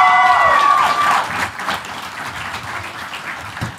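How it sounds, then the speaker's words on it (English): An audience applauds together after a heavy personal story is shared, broad steady clapping that starts full and eases slightly, with a brief tonal whistle-like streak near the start. "One more round of applause."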